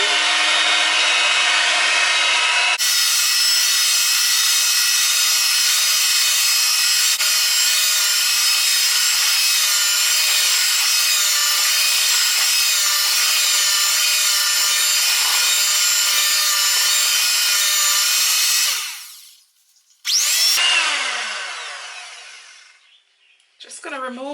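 An electric mixer runs steadily as flour is blended into sorrel and beetroot fruit cake batter, giving a loud continuous whir. It stops briefly near the end, then starts again.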